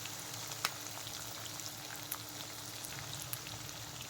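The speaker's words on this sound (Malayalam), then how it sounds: "ഇതെല്ലാം കൂടെ ഇട്ടിട്ടൊന്ന് വഴറ്റാം." Onions with other ingredients sautéing in a pan for a variety rice dish, giving a soft steady sizzle with faint crackles and a few sharp pops, close and quiet throughout.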